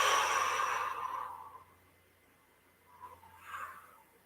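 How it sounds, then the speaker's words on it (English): A long, slow exhale during a Kundalini meditation, a soft breathy rush that fades out, followed after a pause by a quieter second breath, close and alone. "Exhale."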